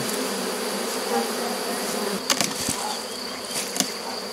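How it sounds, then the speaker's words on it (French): Honeybees buzz at a hive in a continuous close hum, with a few sharp knocks and handling sounds partway through. "les abeilles vont rentrer dedans"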